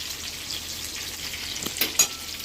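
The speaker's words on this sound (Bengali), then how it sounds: "এবার এর মধ্যে আমি লঙ্কা কুচিগুলো সব দিয়ে দিচ্ছি।" Chopped chillies fry in hot oil left over from frying pabda fish, giving a steady close sizzle with a couple of sharper spatters near the end.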